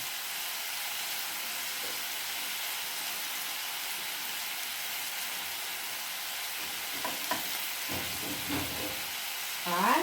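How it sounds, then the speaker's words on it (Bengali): Chopped ginger and garlic cloves sizzle steadily in a pan with hot oil, a continuous close frying hiss with a few louder crackles and stirring scrapes near the end. "এই যে আদা কুচি দিয়ে দিলাম, আর এই যে রসুনের কোয়াগুলো এখানে দিয়ে দিলাম।"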